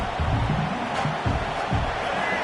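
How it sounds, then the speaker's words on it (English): Stadium crowd roar from a college football video game, a steady dense wash of noise on fourth down against the offense, loud and continuous throughout. "this crowd is making it miserable on this offense"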